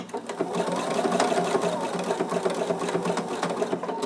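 Sewing machine running steadily in zigzag stitch over a pipe cleaner laid in fabric for a face mask nose bar, a continuous close whirring hum with a fast mechanical rhythm throughout.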